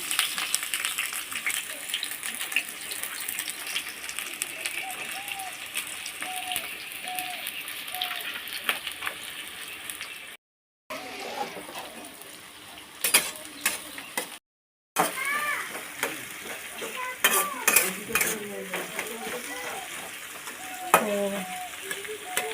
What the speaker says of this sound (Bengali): তারপরে দেবো পেঁয়াজ কুচি